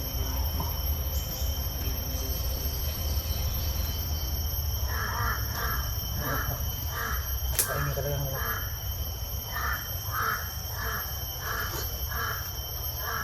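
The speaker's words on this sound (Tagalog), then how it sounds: "Oo, ang mga uwak." Crows caw repeatedly in short rhythmic bursts from a moderate distance, over a steady background hum and chirping insects.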